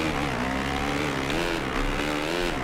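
Motocross bike engine in MXGP 2 racing, a steady buzzing rev with wavering pitch as the throttle rises and falls, loud and continuous.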